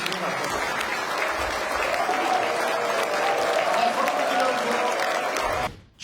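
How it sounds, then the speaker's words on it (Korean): Audience at a business-community New Year reception welcoming the South Korean president breaks into broad, steady applause that swells slightly, then cuts off abruptly near the end. "저희도 나같이 환영의 박수를 한번 크게 한번 쳐주시면 어떨까요?"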